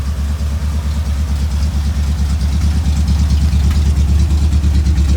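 A 1974 Ford F100 truck engine running steadily after rewiring, loud and close with a rumbling, pulsing idle and no speech.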